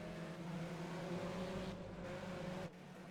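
A BMW 320 Cup race car at Zolder braking toward the chicane, with a steady loud engine drone and harmonic whine that holds, then drops in level near the end as the driver comes off the throttle.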